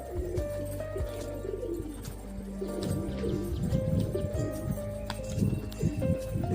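Pigeons in a loft cooing steadily and close, several birds overlapping in low throaty calls, with light clinks and rustling in the background.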